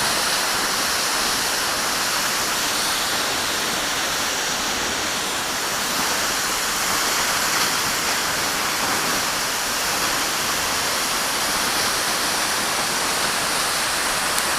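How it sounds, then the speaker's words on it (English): Seljalandsfoss, an Icelandic waterfall over volcanic bedrock, roars as a steady, dense wash of falling water that stays loud and close throughout, with no voices. "You should see a waterfall called Seljalandsfoss to the north."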